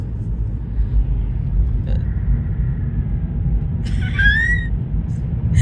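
A screaming toy football bouncing around in a bag inside a moving car lets out a brief, high, wavering squeal over a steady low road rumble.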